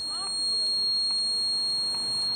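Emergency bracelet alarm triggered by pulling a small chain, giving a continuous high-pitched electronic tone held throughout, steady and fairly loud, over faint background noise.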